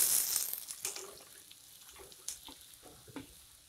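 Ivy gourd (kundru) goes into a hot spiced pan, giving a quiet sizzle that starts strongest and fades, broken by small scrapes and clinks of stirring, with no voice.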